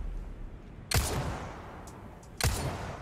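Gunfire in the video game Resident Evil 4 Remake: two loud, sharp shots roughly a second and a half apart, each with a short ringing tail over a low steady background.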